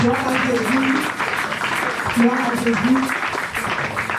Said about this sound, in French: On applaudit pour l'Éternel.